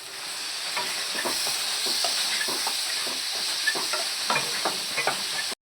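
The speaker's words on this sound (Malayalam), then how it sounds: "നന്നായിട്ടൊന്ന് ഫ്രൈ ആയി വരട്ടെ." Soya chunks fry in a pan over a low flame, giving a steady sizzle with frequent light scraping clicks from stirring; the sound cuts off abruptly at the end.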